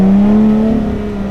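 A Lotus Exige 380 Cup sports car's engine drones loudly and close up on a mountain pass. It holds a strong, steady tone that wavers slightly in pitch as the revs shift.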